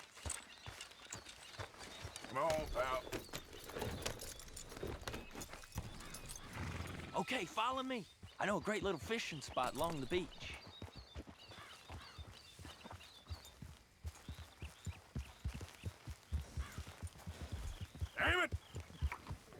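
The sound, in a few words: horse hooves in Red Dead Redemption 2 video game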